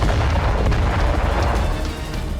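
Explosion on a gas pipeline in Iran: a loud, sustained rumbling roar with deep low-end boom and crackling texture, easing slightly toward the end, with no voices.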